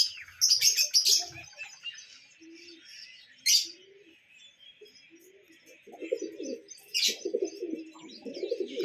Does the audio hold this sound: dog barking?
no